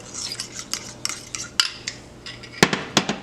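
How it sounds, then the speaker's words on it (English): A spoon stirs lumps out of milk heating in a pot, producing close, irregular metallic scrapes and clinks against the pot's sides, with a few sharper taps along the way. "I'm going to go ahead and continue to stir out the lumps here"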